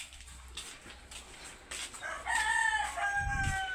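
A rooster crows loudly nearby, a long drawn-out call, over faint background clucking and rustle.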